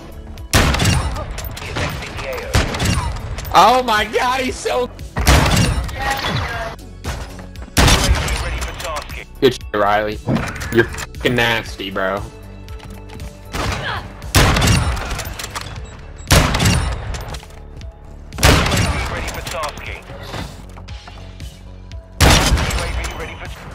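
Repeated bursts of gunfire and sharp shots ring out during a Search & Destroy video game match, loud and irregular, mixed with excited players talking over them.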